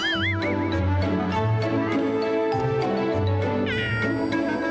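A calico cat meows repeatedly over a steady low hum and background music, a few drawn-out, wavering cries rising and falling.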